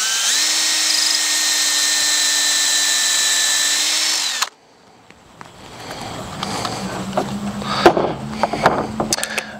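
A power drill whines steadily for about four seconds while boring vent holes in a Spulse rifle prop, then stops, followed by scattered clatter and handling noises nearby.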